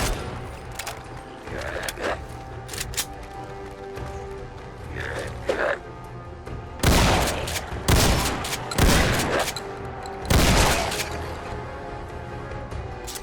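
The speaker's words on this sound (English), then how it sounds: "Just getting a little tired of shooting these guys." Gunfire rings out while enemies are shot in the video game Fallout 4, with several loud bursts of shots and rattling reports following one another, plus quieter clicks and mechanical sounds between them.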